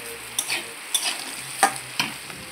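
Potatoes and spiny gourd frying in a wok, with four distinct stirring scrapes spaced about half a second apart over a soft background sizzle, close and moderately loud with no voices.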